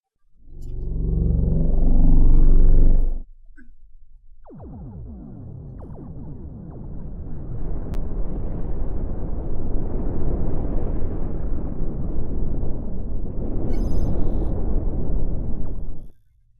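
Photon torpedo explosions in the space game Cosmoteer: one heavy, booming blast that cuts off sharply, then a long rolling rumble of continuous detonations that swells and fades away at the end.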